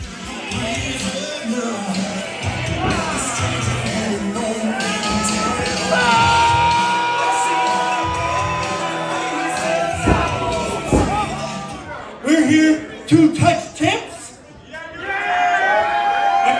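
A large live crowd in Calgary, Alberta shouts, whoops and cheers loudly and continuously, with several bursts of yelling rising and falling near the end; voices call out over the steady roar.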